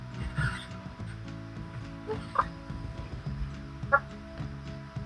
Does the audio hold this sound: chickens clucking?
yes